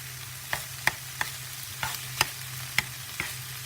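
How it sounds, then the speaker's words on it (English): Tofu crisps on medium heat in a pan with a soft background sizzle, punctuated by regular sharp scraping clacks as the pieces are tossed and stirred, with no talking. "just to crisp up that tofu. And I'm just going to toss it."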